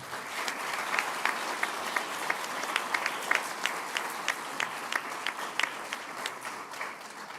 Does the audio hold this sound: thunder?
no